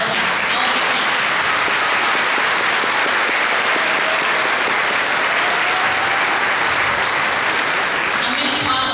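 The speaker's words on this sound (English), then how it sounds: "Claps I love claps." An audience at a college nursing graduation ceremony claps steadily, a broad, even wash of applause lasting the whole stretch, with faint voices underneath.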